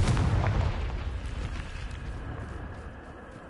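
A Confringo explosive spell cast in Hogwarts Legacy on PS5 sets off a booming blast that opens loud and rumbles, then decays into a fading roar over a few seconds with no talking.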